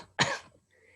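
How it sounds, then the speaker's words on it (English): A single sharp cough, close and fairly loud, lasting about a quarter second and then fading into quiet. "And then if you were to cough"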